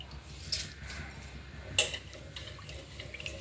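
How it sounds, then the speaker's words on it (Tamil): Ragi grains being rinsed by hand in water, with soft sloshing and a few sharp trickling splashes. Quiet and close. "இந்த மாதிரி தண்ணி தெளிவாக வர்ற வரைக்கும் அலசி எடுத்துக்கலாம்"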